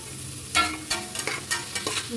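Masala frying in a pan for avarekalu palav, with a soft sizzle broken by several sharp scraping stirs of a spoon against the pan, close and fairly quiet, no voices.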